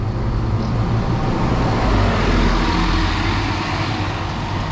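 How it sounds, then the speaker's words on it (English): A Scania Enviro 300 bus pulls away at a station stop in South Wales, a loud, steady low engine rumble with road noise throughout and no talking. "departing out now is our bus, which is a Scania Enviro 300"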